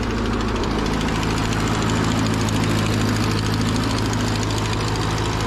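An 80-plus-year-old Ford 9N tractor engine runs steadily with a close, loud, rough low rumble and rhythmic knocking, its exhaust blowing out bits of nut shells and debris that had been stuffed inside.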